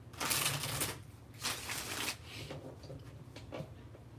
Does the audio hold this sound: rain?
no